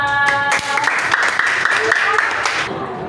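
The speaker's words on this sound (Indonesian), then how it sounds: "Bagus, tepuk tangan dong untuk Iba." A classroom of students claps for a classmate during an Indonesian language lesson, a loud, brisk burst of applause with voices mingled in that fades out toward the end.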